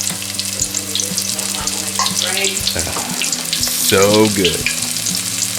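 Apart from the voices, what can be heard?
onion rings frying in hot oil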